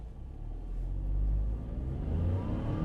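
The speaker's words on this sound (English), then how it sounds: "Taking off from a standstill, and I'll put my foot pretty much flat to the floor" A 2025 Kia Stonic accelerates hard from a standstill with the throttle near the floor, its engine rumbling low and building steadily, heard from inside the cabin.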